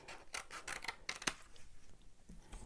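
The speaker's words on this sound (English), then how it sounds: "use a pair of scissors and you just go and cut in the middle straight through" Scissors snip through paper for a scrapbook, cutting straight through the middle, a few quick close crisp cuts and rasps, faint overall with no talk.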